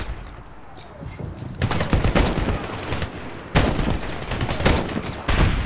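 Loud bursts of automatic gunfire from a gun in the 2010 Medal of Honor video game, heavy repeated volleys crackling close by with no talking.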